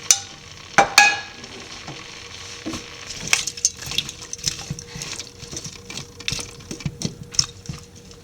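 Chopped vegetables with slit green chili, cloves and cinnamon stirred in a pan for a vegetable stew, giving soft scraping and clinking spoon strokes over a faint sizzle, a few sharper knocks near the start, with no talking.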